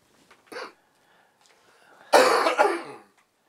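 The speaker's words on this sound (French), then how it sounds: "je dois tousser" A man being interviewed in a quiet room coughs, with a short cough first and then a louder, harsher cough lasting nearly a second, close to the microphone.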